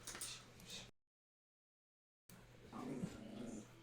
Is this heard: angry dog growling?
yes